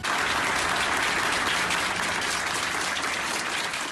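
Dense, steady applause from a crowd of healthcare staff at a hospital exit, loud and continuous throughout without any break.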